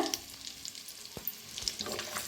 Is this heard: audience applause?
no